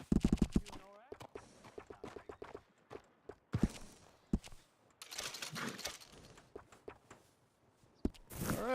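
Horse hooves clip-clopping in Red Dead Redemption 2: intermittent sharp hoof clops and shuffling steps, with a voice talking over parts of it and bursts of rustling noise.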